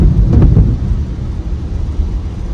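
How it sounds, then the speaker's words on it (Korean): Thunder from a lightning strike during a storm near a Tesla Supercharger, a loud deep rumble that swells at the start and rolls on with low background noise, no talking. "지금 번개치는 거예요."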